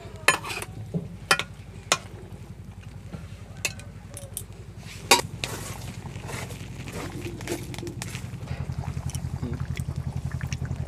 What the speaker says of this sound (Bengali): মাছটা তরকারির সাথে একটু মিশিয়ে দিলাম।